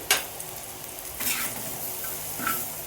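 Karchikai filling ingredients fry in a hot pan in a village-style kitchen, giving a steady close sizzle with a few scraping stirs and light taps across a few seconds.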